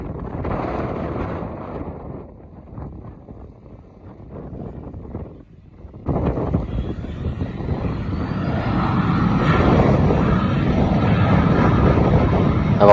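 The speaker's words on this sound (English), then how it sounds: "watch these small planes take off and land" Small plane taking off or landing at Shelter Cove, California, its engine drone swelling louder and closer after a brief lull and holding steady, mixed with gusty wind buffeting the microphone near the coast.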